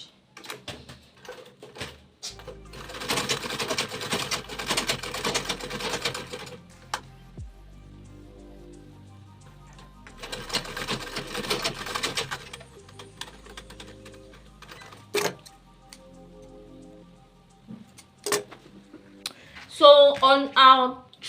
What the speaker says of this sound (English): So I'm just going to top stitch at this top part.